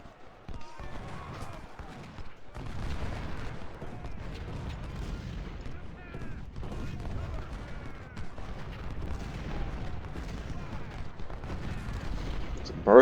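Musket volleys crackle in the Civil War strategy game Ultimate General: Civil War as a string of sharp, moderately distant gunfire bursts, with some talking over them.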